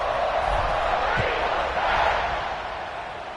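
A stadium crowd at a football game buzzes after a score, a dense, steady roar of many distant voices with an announcer talking over it.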